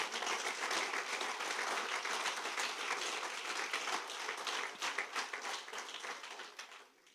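A church congregation breaks into dense, steady applause, many hands clapping together at moderate distance before the sound thins out and fades near the end.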